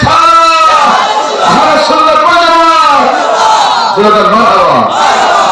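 A large crowd at an Islamic sermon gathering roars back a chanted religious slogan in unison, a loud, sustained wall of massed voices rising and falling in pitch across several seconds.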